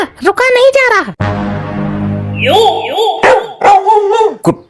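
Small dog barking in a Hindi comedy sketch: a few sharp yips at the start, then a long tonal whine, then a run of rapid high yelps and barks, close and loud.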